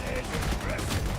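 Gunfire from a sniper rifle in the video game Darktide, a loud dense burst of shots with rumbling low-end blasts lasting about a second, with a voice faintly underneath.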